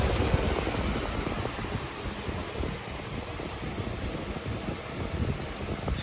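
Holmes Power box fan, model HABF-25 from 1999–2000, running on medium speed, giving a constant close broadband whoosh of moving air with no voices.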